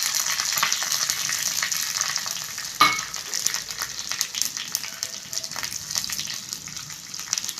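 Chopped shallots hit hot coconut oil with mustard seeds and curry leaves for a Kerala-style tomato dal curry, a loud sharp burst of sizzling that settles into a steady hiss with light stirring.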